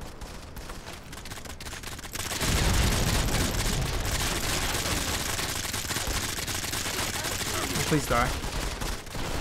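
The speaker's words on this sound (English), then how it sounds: "Dude, I can't see the man, he's firing at me." Automatic weapon fire from the video game Modern Combat 5 starts with a few sharp shots. Around two seconds in it turns into a loud, sustained burst of rapid gunfire, and a player's voice speaks briefly over it.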